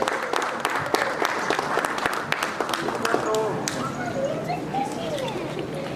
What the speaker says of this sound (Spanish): Un aplauso para las maestras.